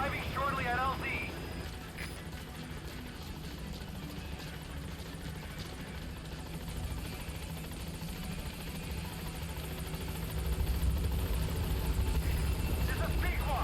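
Helicopter in Metal Gear Solid 5 arriving at a landing zone, a steady, droning rotor and engine hum that holds throughout and swells slightly louder toward the end, with voices talking over it.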